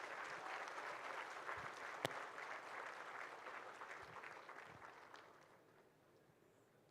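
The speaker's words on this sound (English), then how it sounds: "give yourself a huge round of applause for this journey" Graduates applauding at a business school convocation ceremony in Chennai, a distant, moderate wash of clapping from a large hall that slowly thins and fades toward the end, with one sharp knock partway through.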